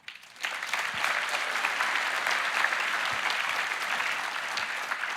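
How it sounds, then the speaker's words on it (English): Sustained applause from a large audience at a Roblox platform showcase event, starting abruptly and holding steady and loud to the end with no talk over it. "I want to give a huge round of applause to these two games"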